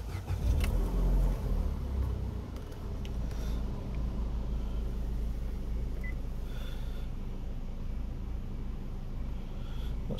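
A Vauxhall Corsa SRi engine starts with a brief loud burst, then settles into a steady, low idle rumble that continues to the end, heard close with no talk.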